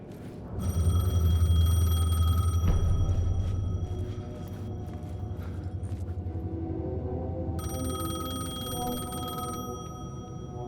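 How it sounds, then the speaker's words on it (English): A payphone in the video game Alan Wake II rings with a bell-like trill in two bursts that are separated by a pause, heard over a low rumbling ambience with no voices. "The payphone was ringing."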